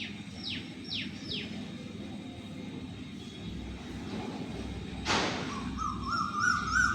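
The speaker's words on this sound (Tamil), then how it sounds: "இப்போ கொஞ்சம் கொஞ்சம் கிளி சத்தங்கள் கேட்குது" Three quick descending parrot squawks near the start, then more chirpy calls toward the end, over a constant low engine-like rumble and a sudden whoosh.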